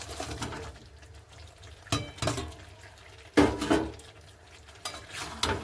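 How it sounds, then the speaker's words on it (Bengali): Jackfruit and potato pieces tipped into cooked-down masala in a pan, giving a few loud thuds and clatters of food and utensils hitting metal, with a soft sizzle and scraping in between. "এই সময়ে কাঁঠাল আর আলুগুলো দিয়ে দেব সবকটাই।"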